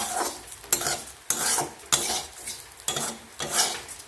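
Food frying in a pan, compared to moong dal being fried, with a steady sizzle broken by repeated scraping stirs of a spatula against the metal, loud and close, no voices.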